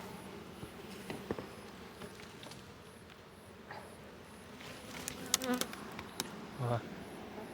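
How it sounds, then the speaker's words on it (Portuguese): Many bees buzz around close by, their droning hum rising and falling with several sharper passes near the end, fairly quiet and with no talking. "Tem muita abelha."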